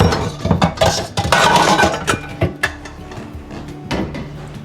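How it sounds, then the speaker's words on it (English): A pan is pulled out in a home kitchen, with a rapid run of loud clattering metal clanks and knocks, tapering into softer bumps. "I'm gonna get a pan"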